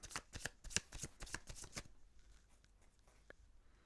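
Tarot cards being shuffled close by, a quick run of crisp riffling slaps for about two seconds, then softer faint handling of the cards.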